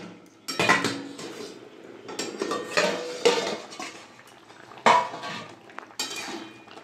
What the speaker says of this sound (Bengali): 10 মিনিট হয়ে গেছে, ঢাকাটা খুলে দেবো।